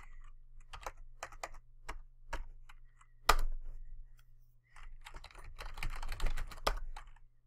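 Computer keyboard keys tapped in quick irregular bursts while a sudo dpkg install command is entered, close and fairly faint, with a short pause and a louder flurry of typing near the end.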